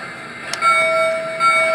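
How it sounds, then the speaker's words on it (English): Model locomotive bell set off from a universal remote controller: a single sharp strike followed by a sustained ringing tone that keeps sounding with a slight swell, close and fairly loud. "There's the bell."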